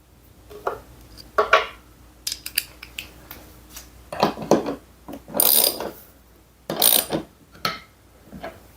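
A wrench tightening a bolt during an off-grid solar system install, close ratcheting clicks and metallic clanks in several short bursts separated by brief pauses.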